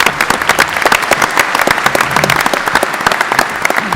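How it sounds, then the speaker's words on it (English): An audience at a Constellation Software annual shareholder meeting claps. The applause is dense, lively and sustained, with many sharp hand claps close together for the whole stretch. "an object measure from the audience in the form of applause for Mark's handling of"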